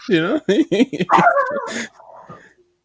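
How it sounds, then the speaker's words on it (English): Dogs at home bark and whimper in a quick run of close, loud yips and barks that fade into softer whines, with someone talking nearby. "We got dogs barking at the Hooper household."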